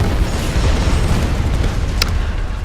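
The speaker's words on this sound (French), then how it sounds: "maintenant qu'il y a du gaz, on va peut-être le faire exploser" A gas explosion in the Tomb Raider video game: a loud, low, rumbling boom rolls on steadily throughout, with one brief sharp crack near the end and no talking.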